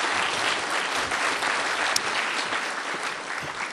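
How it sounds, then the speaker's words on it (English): Sustained audience applause fills a graduation ceremony hall at a mathematics department awards event, a dense, steady wash of many hands clapping at even loudness throughout with no voices. "Yeah, applaud."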